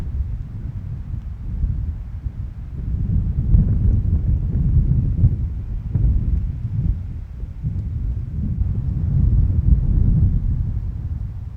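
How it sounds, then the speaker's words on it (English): Wind gusts blow up from a valley at an open spot facing Mount Rainier, a low buffeting roar that swells and eases in waves across the microphone. "It is rather windy here because we're out in the open"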